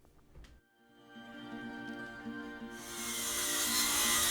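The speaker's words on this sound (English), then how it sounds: "here I'm just breaking that down using a circular saw and a straight edge" Circular saw cutting a plywood sheet along a straight edge: the motor whines up to speed, then a bright, loud, rasping cut begins and continues to the end.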